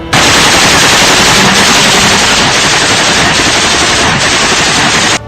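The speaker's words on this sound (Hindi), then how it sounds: "एक लड़ाका मशीन गन से एक तरफ ताबड़तोड़ गोलियां चलाता दिखाई दिया" Loud, continuous machine-gun fire in the Russia-Ukraine war at Mariupol, hammering without pause for several seconds, close and overwhelming.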